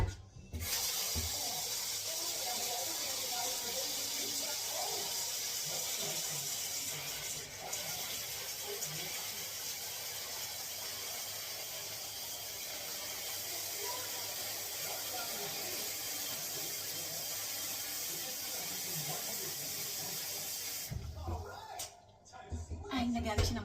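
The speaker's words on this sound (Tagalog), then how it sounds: "Lagyan natin siya ng tubig." Tap water runs steadily into a pot for about twenty seconds as a continuous hissing, splashing stream, fairly loud and close, before stopping near the end.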